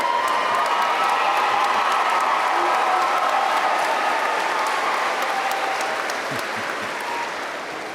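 Applause from a large audience at a May 2022 commencement ceremony, sustained dense clapping with some cheering that rolls on steadily and starts to fade near the end.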